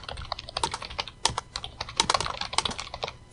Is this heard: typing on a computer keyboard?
yes